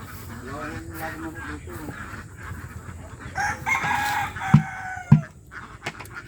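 A rooster crows loudly over clucking chickens, with two sharp louder calls near the end and a voice speaking early on.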